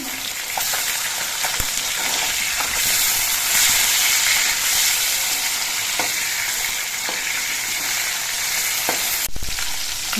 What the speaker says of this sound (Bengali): মাছটা এক পিট কিছুক্ষণ ভাজা হয়ে যাওয়ার পর আমি উল্টে দিচ্ছি